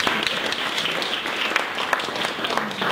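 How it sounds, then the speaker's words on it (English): A crowd applauds, a dense wash of clapping that holds steady for a few seconds. "We're going to have one more round of applause for our"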